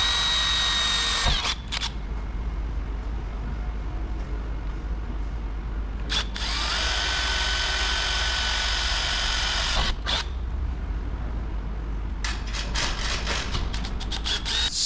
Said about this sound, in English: So the next step is to drill 1/8 inch pilot holes.